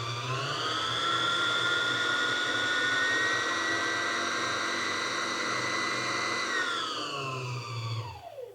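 A Singer Heavy Duty 4452 sewing machine winds a bobbin at full speed with a steady, high motor whine that holds for several seconds, then drops in pitch and winds down as it stops.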